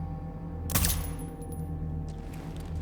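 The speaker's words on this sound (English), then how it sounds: "that was the most quietest explosion I've ever heard" A brief, muffled blast goes off in the video game Deathloop, a single soft burst near the start that fades quickly into low background hum.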